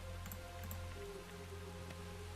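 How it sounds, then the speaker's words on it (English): Rain in modded Minecraft 1.12.2, a faint, soft patter of scattered drops over a steady low mechanical hum, quiet and continuous. "Oh look, it's raining!"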